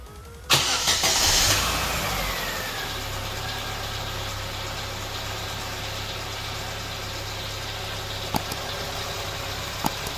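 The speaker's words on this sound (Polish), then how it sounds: "Już zapalamy silnik" A Chevrolet Nubira 1.8 engine, just fitted with a new timing belt and water pump, cranks and catches, revs briefly, then settles into a steady low idle; a couple of faint clicks sound later on.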